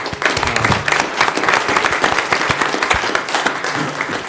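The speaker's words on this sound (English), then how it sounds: "Let's give a round of applause for those who are retiring" Applause at a city council meeting for retiring staff, a full crowd of hands clapping steadily for several seconds, close and fairly loud, with a few voices underneath.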